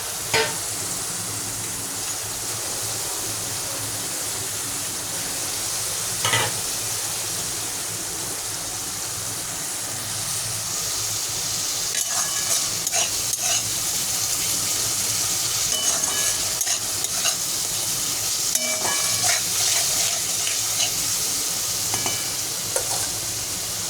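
Dim kosa, a Bengali egg curry, cooks in mustard oil with a continuous loud sizzle and bubbling, joined by light scraping and stirring clicks, and no one speaks.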